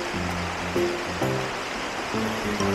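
The Wara River in Japan, a busy fishing spot, rushes with a steady, full wash of flowing water. A low tonal hum and faint pulses sit beneath the constant noise.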